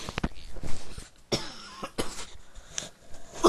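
A few dry coughs up close, mixed with throat clearing and small rustling noises, no speech.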